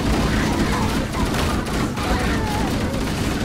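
Dense, continuous gunfire fills a battle in Halo: Combat Evolved, loud and unbroken, with rapid shots layered over a roaring game mix.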